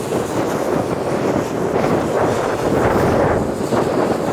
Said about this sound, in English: As you can see on the what do you call it, trees, there's a lot of wind.